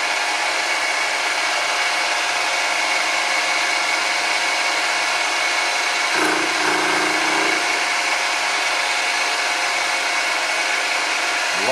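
An engine runs loudly and close by in a constant, dense roar that never lets up, with a brief thump partway through.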